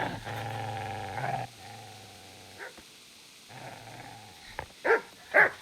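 In the medieval game Kingdom Come: Deliverance, a dog growls low and continuously before short, sharp snarls and barks break out as it attacks.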